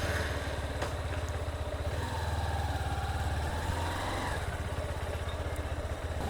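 A motorcycle engine thrums steadily while riding, a low rhythmic putter close to the microphone with wind and road rush over it, continuous throughout and without speech.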